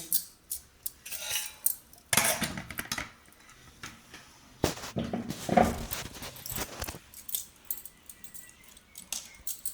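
Ingredients for tempering are chopped in a home kitchen while cooking pappu, a string of sharp knife taps and clatters against a board and utensils, irregular and close, with quiet gaps between bursts.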